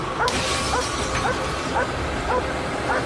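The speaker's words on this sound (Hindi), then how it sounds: "इस कार पर भौंक रही है" A dog barks repeatedly at a car, short sharp yips coming every half second or so in a steady rhythm over a faint background hum.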